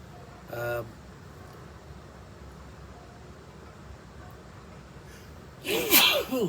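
One short sneeze near the start, then quiet room noise, ending with a louder, breathy sneeze-like burst.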